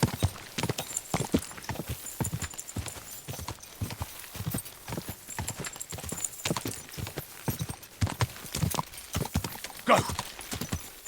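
Rapid, steady hoofbeats of a galloping horse in the video game Kingdom Come: Deliverance 2 clatter throughout, close and loud, with occasional snorts and a brief whinny near the end.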